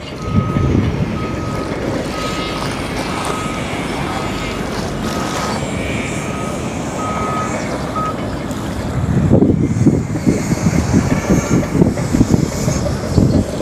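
Reversing beeps from a backhoe at a beach construction site on Manila Bay, a steady intermittent beep over loud machinery rumble and wind, with the engine growing louder later.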